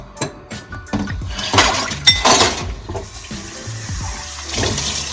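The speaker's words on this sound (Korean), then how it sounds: "설거지를 해보도록 하겠습니다" Dishes and glassware clink and knock against each other under running tap water in a sink, with irregular close-up clatter.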